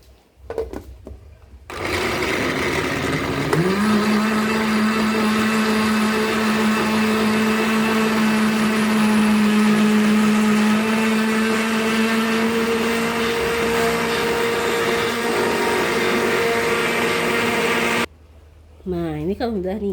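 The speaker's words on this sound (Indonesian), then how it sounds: "Dikit aja kali ya blendernya." A kitchen blender whirs steadily for around fifteen seconds with a loud motor tone, beginning and ending abruptly, while a person talks under and around the noise.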